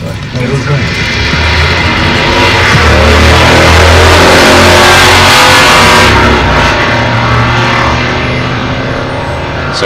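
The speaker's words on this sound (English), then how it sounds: "a motorcycle just went by" A motorcycle passes nearby, its engine swelling to a loud, broad roar midway and then fading, under game sounds and people talking.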